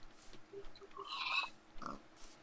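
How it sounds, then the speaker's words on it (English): A pig in the video game Minecraft gives a couple of short grunting oinks, close and moderately loud, separated by small clicks and quiet gaps with no talk. "Killing pigs, because that's what I do."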